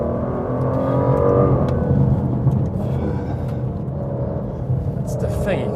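An Aston Martin DBS 770 engine set to Sport mode pulls hard under acceleration, giving a loud, steady, rising drone from inside the cabin throughout.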